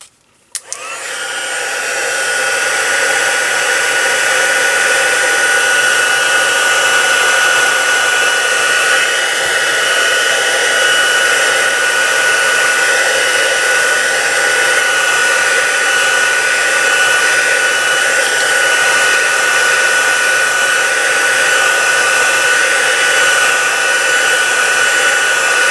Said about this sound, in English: Heat tool on again to dry this.